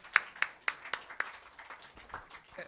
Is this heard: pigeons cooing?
no